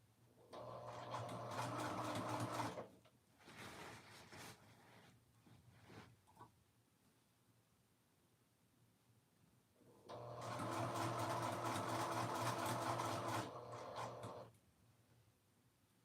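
A sewing machine stitches around the pocket of a dress at a 3/8 seam allowance, running in two long steady bursts with short stop-start whirs between, close and loud with no talk.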